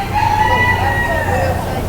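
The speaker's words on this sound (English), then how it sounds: "One of the best bantam chickens right there." A bantam chicken crows in a busy fair animal barn, a loud drawn-out call sitting over a steady murmur of crowd noise and nearby voices.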